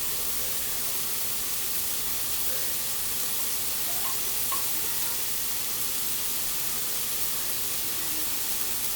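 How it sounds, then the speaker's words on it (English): Orange juice boils in a pan while cornstarch slurry is stirred in, giving a steady, quiet hiss and bubbling sizzle that holds evenly throughout with faint stirring touches, no voices. "Our orange juice have started to boil."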